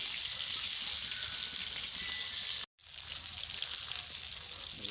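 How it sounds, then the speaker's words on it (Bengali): Constant hissing sizzle of fish frying in oil, steady and moderately loud, briefly cutting out for a moment before resuming. "এই যে আমাদের মাছ ভাজা শুরু হয়ে গেছে, মাছ ভাজতেছে।"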